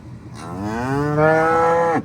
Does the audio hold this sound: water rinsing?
no